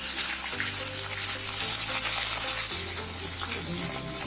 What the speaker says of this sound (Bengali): আদাটা ছিটছে